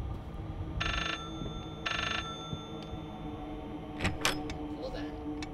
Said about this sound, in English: Oh, someone's calling. Where's the phone?